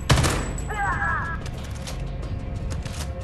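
Gunfire in Homefront: The Revolution, a sharp near shot followed by scattered crackling bursts and a short warbling electronic tone, with someone speaking over the action.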